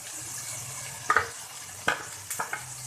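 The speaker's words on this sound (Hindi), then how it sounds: "मिर्चें, धनिया, हल्दी, नमक इसमें शामिल करके इसको भून लेंगे अच्छी तरीके से।" Chili, coriander, turmeric and salt roast in a pan for spiced potato rice, giving a soft, steady background hiss broken by a few sharp stirring scrapes and clicks.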